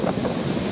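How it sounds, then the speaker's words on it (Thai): Strong wind buffets the microphone at a beach at Southport, Adelaide, with rough surf rolling underneath as a constant loud rushing roar. "จะพยายามพูดดังที่สุดเพราะว่าลมมันแรงมาก"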